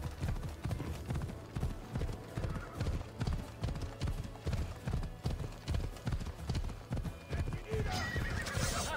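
Galloping horse in Assassin's Creed Odyssey, rhythmic hoofbeats pounding steadily throughout with neighing, while someone talks over it.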